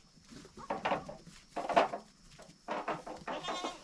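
A goat bleats several times close by, in separate loud calls spread across a few seconds, with quiet pauses between them, on a farm kept with an Akbash livestock guardian dog.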